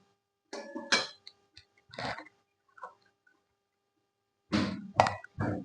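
Hilsa fish pieces are tipped into a spiced mixture of turmeric and salt, giving a few separate soft plops and thuds in two short clusters with silence between, close and quiet, with no talk.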